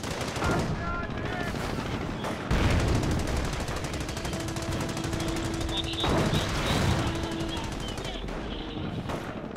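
Sustained machine-gun bursts and heavy artillery booms from the Company of Heroes video game, loud and continuous, with a voice speaking over the battle.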